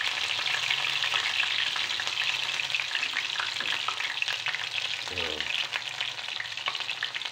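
Mushrooms frying in hot oil, a dense, steady sizzle that stays close and loud throughout, with a brief low knock near the end and no voices.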